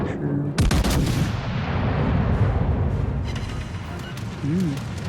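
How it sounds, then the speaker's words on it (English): Battleship main guns fire in World of Warships Legends, a loud sudden boom followed by a long rumbling roar and continuing battle noise, with someone talking over the gunfire. "Let's go ahead and shoot him in the superstructure."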